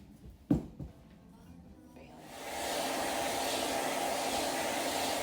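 A dog hair clipper with an attached vacuum starts after a few quiet seconds of faint handling and a thump, then settles into a loud, steady whooshing motor roar that runs to the end.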